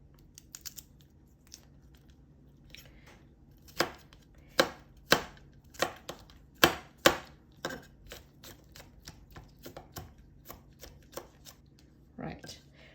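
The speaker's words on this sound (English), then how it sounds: "smash it, and then just finely chop these" A knife chops smashed garlic cloves finely on a board in a quick burst of sharp, close taps that speed up and then trail off, with faint sounds before and after.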